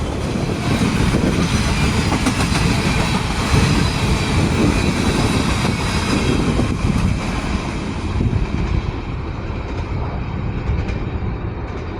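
A CSX freight train rolls past on the rail line, a steady loud rumble of wheels and cars with faint clickety-clack running the whole time, easing slightly toward the end, with no talk over it.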